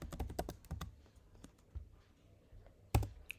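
Close-up typing on a computer keyboard while writing a script: a rapid burst of clicky keystrokes, a short pause with scattered taps, then another firm keystroke.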